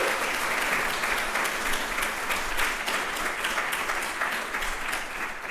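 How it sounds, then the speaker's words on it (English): A live audience at an afternoon summit event gives a sustained round of applause for the event's volunteers, dense steady clapping that holds at an even level throughout with no talk over it. "I want to just give them a round of applause really quick"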